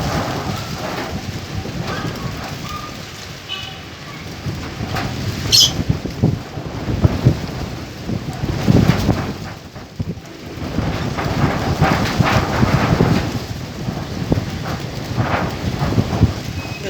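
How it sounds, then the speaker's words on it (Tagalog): Strong typhoon wind roaring by the sea, a loud, gusty rush that rises and falls in surges with rattling and buffeting bursts throughout. "Grabe ang lakas ng hangin kung maririnig nyo."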